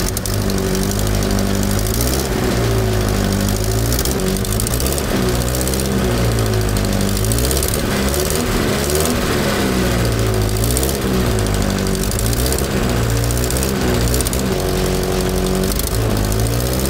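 Engine of a 1973 Triumph Spitfire idling high, close to 2,000 RPM after carburetor adjustment: a loud, rough, continuous drone with a pulsing, uneven throb and rattly texture, heard up close with no talking.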